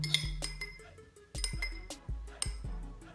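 A spoon stirring cough remedy drops in a glass, giving a series of bright, close clinks and taps against the glass at an uneven pace, with quiet soft scraping between strikes.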